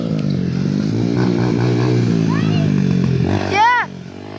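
Dirt bike engine idling and revving steadily with a harmonic drone, a rising whine near the end, as people talk over it.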